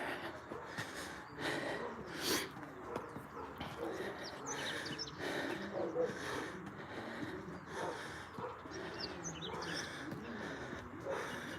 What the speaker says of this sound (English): I am breathing hard. This is the steep hill that I'm going all the way up there.